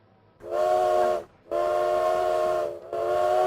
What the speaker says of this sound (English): I thought I heard a train whistle